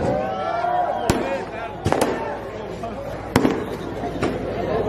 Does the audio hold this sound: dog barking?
no